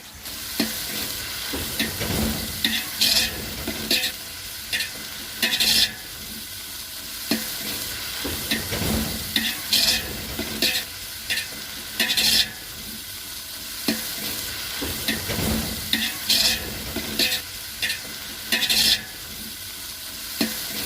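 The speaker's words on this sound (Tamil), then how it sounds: "இதுக்கப்புறம் தக்காளியை போட்டு அதையும் போட்டு வதக்க வேண்டியதான். எல்லாமே நல்லா வதங்குற மாதிரி போட்டு நல்லா வதக்கணும்." Tomatoes and ground spices sautéing for village-style mutton biryani, a loud continuous sizzle with rhythmic bursts of stirring scrapes every second or two, close up and without voices.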